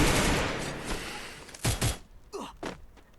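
Explosions from grenades in a mobile battle-royale shooter game: a dense roar of blasts and gunfire at first, then a couple of sharp loud bangs followed by scattered fainter pops.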